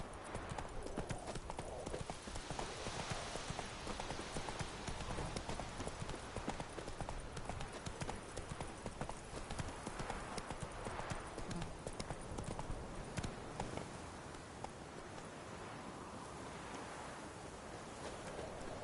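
Roach, a horse in a video game, trots on with dense, continuous clip-clop hoofbeats, close and steady for the whole stretch, against a rushing, windy background with no voices.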